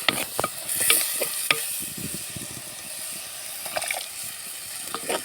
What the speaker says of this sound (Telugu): ఈ టమాటా రసాన్ని చక్కగా ఇందులో పోసుకోవాలి